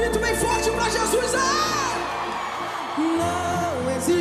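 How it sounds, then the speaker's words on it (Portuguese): A church congregation shouts and cheers loudly for Jesus during a live evening program in Rio de Janeiro, with whoops and yells over a sustained musical drone and tone. "Só quem tá feliz, levante a mão e dá um grito bem forte pra Jesus"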